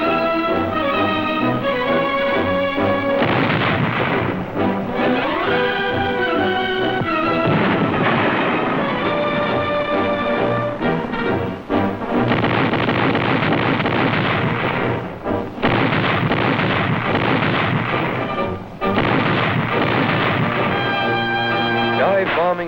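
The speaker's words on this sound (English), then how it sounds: "artillery batteries stand off to subject the fortress city to intensive heavy bombardment, a barrage that persists day and night" Heavy artillery pounds Naha, Okinawa, in 1945, with deep booms and rumbling blasts rolling on without a break. A loud orchestral score plays over the bombardment throughout.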